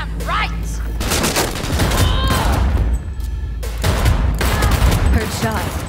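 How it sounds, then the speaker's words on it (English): Cyberpunk 2077 gameplay erupts in loud, sustained bursts of gunfire that rattle almost without pause for several seconds, with a brief lull midway and faint voices underneath. "Heard shots."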